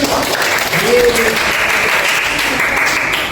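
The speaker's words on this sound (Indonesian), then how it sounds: "Tepuk tangannya dong." A group claps steadily and loudly throughout, with a few voices mixed in among the applause.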